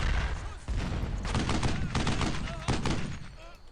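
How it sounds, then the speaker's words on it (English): Enemy gunfire in the World War II shooter video game Brothers in Arms: Earned in Blood, a dense burst of rapid overlapping rifle and machine-gun shots that rattles on continuously for several seconds at fairly close range. "I imagine those are some Panzerfaust guys trying to shoot us"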